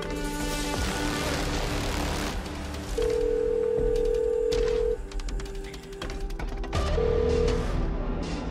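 Telephone ringing during an attempted call, a steady tone in two long bursts over background noise, fairly close.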